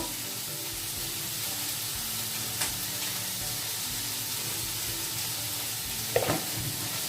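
Food frying in a pan before tomato is added makes a constant close sizzle with no talk, broken by two brief utensil clinks.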